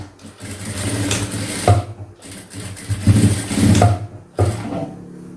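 A sewing machine stitches folded blouse cloth in several short mechanical bursts of whirring, separated by brief pauses, close and fairly loud with no voices.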